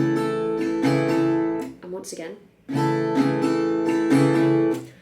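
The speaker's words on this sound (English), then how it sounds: "your 4-beat strumming pattern is going to sound like this" An acoustic guitar strummed in a steady four-beat down, down, up, up, down, up pattern for a song, breaking briefly for a few spoken words before the strumming resumes.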